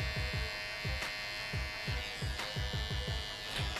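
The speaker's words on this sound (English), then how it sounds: "Now I'm going to use the T-point of my trimmer to connect the vertical to the horizontal section of this temple line." A hair trimmer buzzes steadily while shaping a woman's temple line for a faux hawk, its hum broken by short, regular strokes against the hair.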